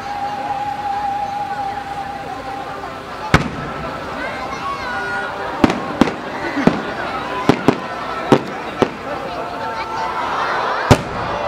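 A string of sharp fireworks bursts at a fireworks festival in Hiroshima, Japan, some in quick succession, cracking out at irregular intervals over a steady background murmur of a crowd.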